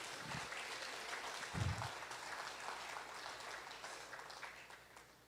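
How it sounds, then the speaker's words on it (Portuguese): Faint, steady applause from a church congregation, a continuous wash of many hands clapping at a distance with no clear pauses. "Aplaude Ele, por isso aplaude."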